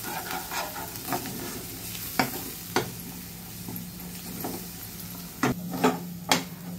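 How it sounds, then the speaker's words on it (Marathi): Ground coriander-cumin powder, misal masala, turmeric and asafoetida fry in oil over a low gas flame, a steady close sizzle broken by occasional sharp clinks and scrapes of stirring. "धने जिऱ्याची पूड, थोडं मिसळ मसाला, हळद, हिंग हे सगळं आपण तेलात तेल सुटेपर्यंत छान फ्राय करूया बारीक गॅसवर"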